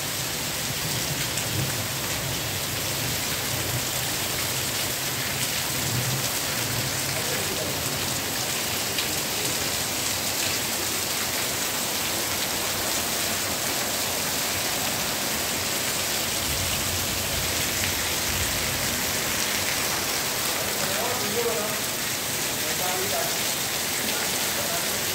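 Heavy, continuous downpour lasting a long time, a loud and unbroken hiss of rain striking surfaces with faint rumbling beneath.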